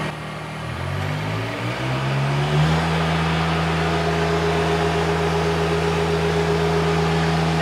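A John Deere 1025R tractor with a HydrosPlus hydraulic upgrade revving up, engine rising in pitch then holding steady at high revs with a loud, sustained hydraulic pump whine, close and alone.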